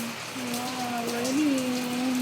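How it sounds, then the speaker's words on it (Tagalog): Heavy rain pours outdoors in a steady, even hiss that fills the whole stretch, with a faint tonal, voice-like sound running underneath. "ang lakas, ang ulan"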